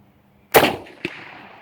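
A single sharp, loud report from an old Gew 98 bolt-action rifle, close by, followed by a shorter echo-like crack and a lingering tail of outdoor noise.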